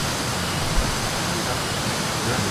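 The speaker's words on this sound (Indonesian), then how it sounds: "akhirnya kita sampai di lokasi wisata air terjun, Curug Cikaruncang" The Curug Cikaruncang waterfall roars as a steady, loud, broadband rush of falling water heard close by, with no pauses and no voices.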